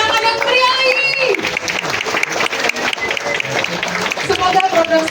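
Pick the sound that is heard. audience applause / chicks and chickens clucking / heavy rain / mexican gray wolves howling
audience applause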